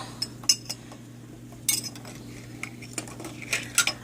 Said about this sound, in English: Let me get a piece of silverware here to get this out.